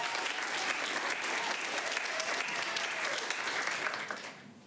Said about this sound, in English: Everyone, round of applause for Emilio.